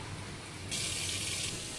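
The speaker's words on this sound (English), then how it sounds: "Clean running water." Clean running water from a tap in Naples, Italy, gushes on abruptly partway through, a steady, close, bright rush over a low background hum.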